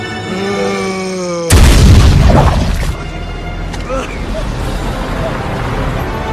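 A grenade goes off in a zombie apocalypse film: a sudden loud blast bursts in after tonal background music, then rumbles and scatters into debris and crackling noise that fades to a lingering low roar.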